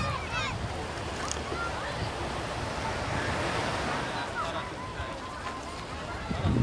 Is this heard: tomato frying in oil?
no